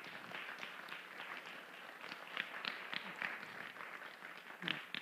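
Applause from an audience at a family weekend gathering, a steady wash of many hands clapping at moderate distance, with no speech over it and slightly louder bursts near the end.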